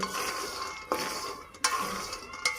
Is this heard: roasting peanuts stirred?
yes